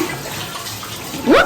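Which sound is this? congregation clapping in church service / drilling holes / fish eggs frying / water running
water running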